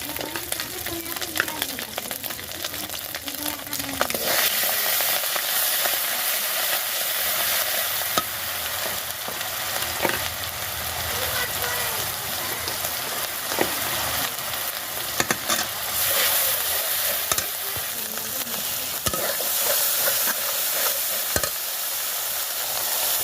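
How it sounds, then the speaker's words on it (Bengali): Spice paste frying in a pan with a steady loud sizzle and repeated stirring and scraping strokes throughout, up close with no talk. "হালকা করে হচ্ছে ভাজা শেষ, এখন মশলাটা ঢেলে দেব"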